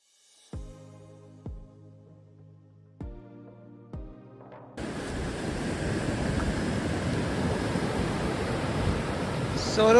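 Waves wash steadily onto the shoreline at Saut D'eau Beach, a loud continuous rushing roar with wind buffeting the microphone, arriving suddenly after a few sharp knocks.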